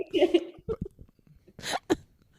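A few short, quiet coughs in quick bursts, with brief pauses between them, close by.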